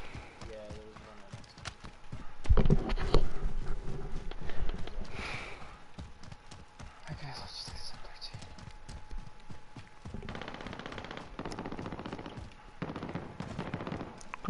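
Gunfire in Call of Duty: Warzone rattles in bursts and scattered shots, some close and sharp and others more distant, mixed with footsteps and movement while players talk over it.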